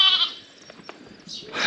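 Young lambs on a farm bleat during feeding, with a close, loud cry at the start and another rising at the end, separated by quieter shuffling.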